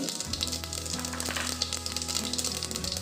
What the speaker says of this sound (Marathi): तापलेल्या तेलात मी आता मोहरी टाकते, छान तडतडते।